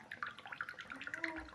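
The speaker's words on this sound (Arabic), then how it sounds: "انا وسعت لها بالسكينه حته صغيره كده عشان نفضي منها تبقى اسرع شويه" Coconut water drips from a small knife-widened hole in a coconut. A quick run of faint, close, tinkling drips and trickles lasts under two seconds.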